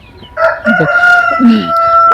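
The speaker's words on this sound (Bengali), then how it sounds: "খামারের ভিতরে এসে আমাদের যে বড় মুরগিগুলো রয়েছে এগুলো আপনাদের সঙ্গে শেয়ার করবো ইনশাল্লাহ" Large broiler chickens crowing and clucking inside a poultry farm shed, several birds calling close by in overlapping bursts with a steady background hum.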